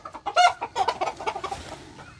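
Chickens cluck close by in a quick run of short, choppy calls that trail off toward the end.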